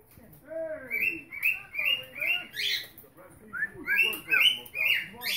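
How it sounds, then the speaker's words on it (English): Cartoon birds chirp and whistle from the animated movie Rio playing on a TV indoors, a lively run of bright, rising tweets in quick repeated bursts, fairly close and clear. "Those are bluebirds"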